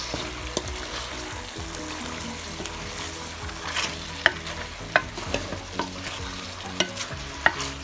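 Pineapple is stirred into chicken frying in a pan: a constant sizzle with repeated stirring scrapes and sharp clinks of a spoon against the cookware, close and fairly loud.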